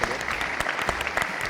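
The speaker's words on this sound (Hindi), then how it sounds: "मैं खुशबू के लिए जोरदार तालियां होगा" An audience claps for the winner of a video contest on a live yoga television show, a brief burst of close, busy applause with a faint voice mixed underneath.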